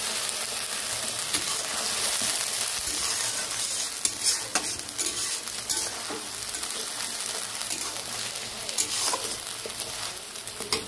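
Vegetable peels (potato, ridge gourd and pointed gourd skins) stirred and frying in a pan, a continuous loud sizzle with repeated scraping of the spatula, close up and with no voices.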